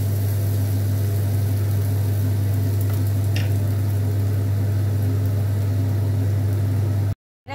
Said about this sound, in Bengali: মশলাটাকে ভালো করে কষিয়ে নিচ্ছি। এখন মশলা গা দিয়ে তেল বেরোতে আরম্ভ করেছি।